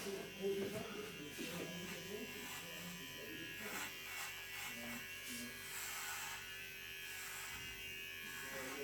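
An electric shaver buzzes steadily through the middle of a man's head during a hair replacement session, trimming already short hair, a close continuous hum as people talk over it.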